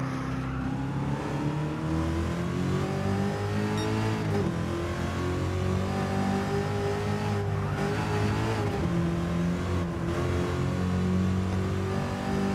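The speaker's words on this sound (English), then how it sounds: "just cruising with this car on the game, it's nice because it's a multi-million dollar car in real life" Engine of a multi-million dollar car cruising in Gran Turismo 7, a steady, continuous drone with layered harmonics that rise and dip slightly as the revs shift, loud and unbroken throughout, with no voices over it.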